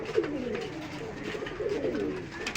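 Teddy pigeons coo at a Khulna pigeon market in soft, rolling, throaty calls. Two or three close coos stand out over steady background murmur.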